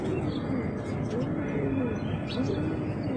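Pigeons in a sturdy cage coo softly in low, rolling calls over a steady background hum, with occasional chirps mixed in, close by.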